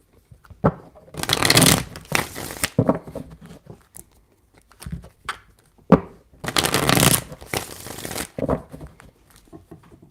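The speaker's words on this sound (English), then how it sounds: "3 shuffles." Tarot cards are shuffled in three separate bursts of crisp riffling, each a second or two long, close and fairly quiet with pauses between.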